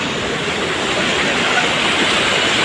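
Strong flowing water pours in a waterfall, a loud, steady, full rushing roar that fills the whole clip without a break.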